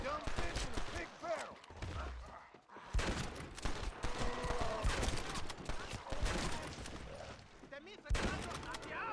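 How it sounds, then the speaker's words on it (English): Gunfire in Red Dead Redemption: Undead Nightmare, a winter zombie-survival setting, rattles in bursts of rapid shots over a game soundscape, with a player speaking over the action. "Oh, I hear gunfire."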